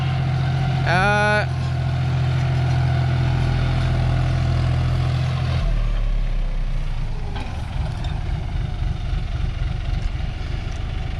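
A John Deere 5045D tractor engine labours under load on farm field work, a deep continuous diesel drone that sags and rumbles unevenly, with a brief rising whine early on.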